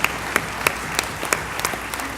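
Audience at a teachers' representative assembly claps, a steady loud wash of applause with crisp individual claps standing out, no talking over it.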